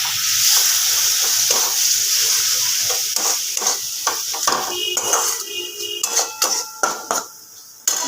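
Spice paste for Bengali bhetki fish kalia frying in a pan with a splash of water, a steady sizzle broken by repeated scraping and clinking strokes of a spatula against the pan.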